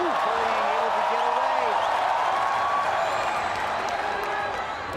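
Arena crowd in Manila at a ONE Championship MMA bout between Eduard Folayang and Aziz Pahrudinov, a steady, dense roar of cheering and applause filling the space, with a commentator's voice talking over it.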